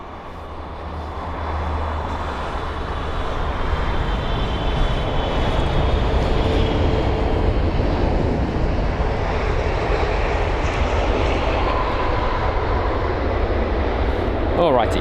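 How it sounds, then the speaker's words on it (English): Japan Airlines Boeing 777-300ER landing at London Heathrow with reverse thrust, a steady broad roar that builds over the first few seconds and holds loud throughout, with a person talking faintly underneath. "the reverse thrusts have made their noise"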